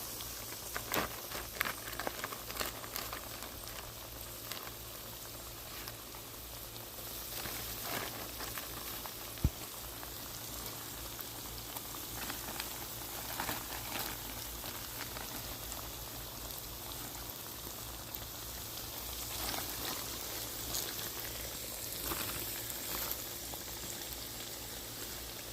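Small, thin bluegill fillets frying in a tub of hot grease, bubbling and sizzling constantly with a dense, rain-like crackle and a low steady hum underneath.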